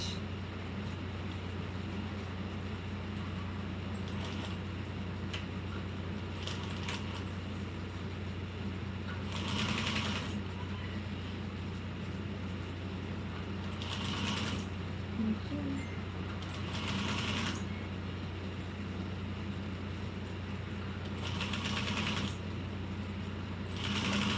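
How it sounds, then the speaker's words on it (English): A sewing machine stitches a bowler bag strap an eighth of an inch from the edge, short mechanical runs of stitching breaking out several times over a steady low background hum. "I'm just gonna sew this at 1/8 of an inch."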